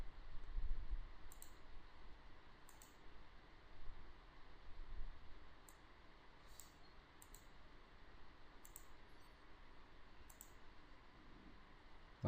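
Computer mouse clicks while recording a shopping website action, a handful of faint, sharp, close ticks spaced irregularly over a quiet room hiss.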